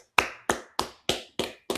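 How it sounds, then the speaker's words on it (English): Six sharp, evenly spaced claps ring out one by one at close range, in a steady rhythm with no voices over them, as a small group is told to clap during a sports podcast's awards segment. "Everyone clap it up."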